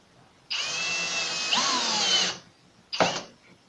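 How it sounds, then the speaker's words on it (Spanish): A cordless drill in screwdriver mode drives a 7 x 1-5/8 inch self-tapping screw into wood and melamine with a loud, steady whir of almost two seconds, then a short second burst after a pause. "colocando tu taladro en la posición de atornillado, introducirás el tornillo autoenroscante de 7 por 1"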